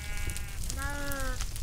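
Two wavering, nasal sheep bleats from Minecraft sound back to back, the second longer and lower, over a faint background murmur.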